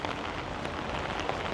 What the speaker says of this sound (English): didn't have any other option but to walk around in the rain